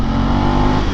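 A 2024 KTM Duke 390 motorcycle accelerating hard in third gear at around 40 km/h, a loud, steady engine roar filling the whole moment.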